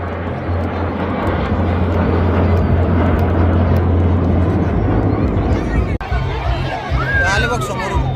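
Surya Kiran fighter jets fly past at an air show, a loud sustained roar that swells and fades over crowd chatter, with a spectator speaking close by.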